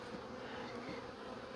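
Honeybees buzz steadily and up close while a hive box is opened for inspection, a dense continuous drone with no pauses and no voices over it.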